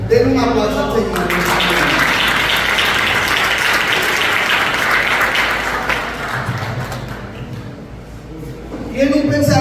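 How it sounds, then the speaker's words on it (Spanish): A church congregation claps loudly at a sermon on Christianity and politics, sustained applause that fades near the end as a voice resumes speaking over it. "Denle un aplauso al Señor."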